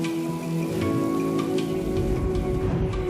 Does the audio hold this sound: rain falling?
yes